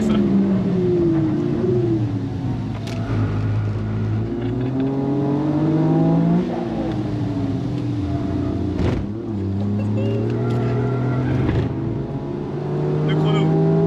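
A Toyota Yaris GR engine revs hard on a race track, close and loud, with repeated rises and drops through the gears while excited voices talk over it.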